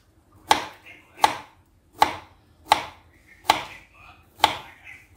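A knife chops through a young jackfruit with six sharp, evenly spaced strikes, close and crisp, with no talking.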